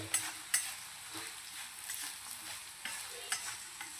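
Poha stirred in a hot pan with salt, a faint, steady frying sizzle broken by a few light scrapes and taps of the spoon, close and quiet.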